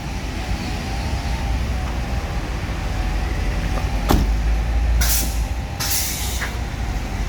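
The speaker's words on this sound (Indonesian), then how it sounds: "Ini bus legend juga ini, bus Keramat Jati." A Keramat Jati bus sits at the Palembang bus terminal, its engine idling in a steady, loud rumble, broken near the end by several sharp bursts of hissing air.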